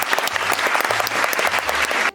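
A classroom of students on a Saturday television show applauds two classmates who scored ten out of ten, producing dense, steady clapping that fills the room and fades at the end.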